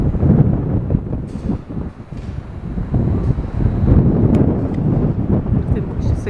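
Strong gusts buffet the microphone outdoors around a derelict hotel awaiting demolition, producing loud, rumbling low-frequency roar that surges and dips continuously without a break.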